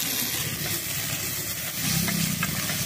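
Finely chopped tomatoes frying in a pan with green chillies and curry leaves, a steady close sizzle with soft stirring noises throughout.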